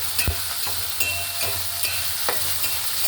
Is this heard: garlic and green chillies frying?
yes